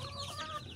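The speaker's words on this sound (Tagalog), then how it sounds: "So happy na yung inahin kasi nakakalabas sila kasama ng kanyang mga sisiw." A mother hen clucks softly to her chicks in a free-range yard, with faint cheeps mixed into a steady, low murmur of farm noise.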